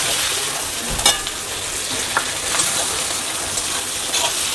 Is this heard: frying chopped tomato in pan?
yes